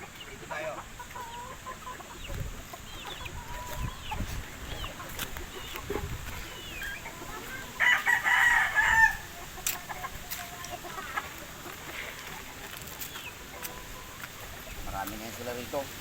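Chickens cluck and a rooster crows on a small backyard flock, with a brief louder crow burst midway over steady outdoor ambience and faint background voices.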